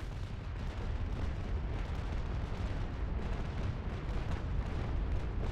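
Cannon broadside fire from a sailing warship in the naval game Naval Action, a continuous dense rumble of overlapping booms that stays loud and heavy throughout, with no voices.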